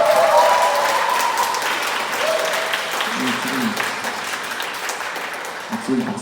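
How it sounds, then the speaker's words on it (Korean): A church congregation applauds, a dense wash of clapping that starts strong and slowly fades, with a voice talking over it toward the end. "지금 박수 타임이 아닌데"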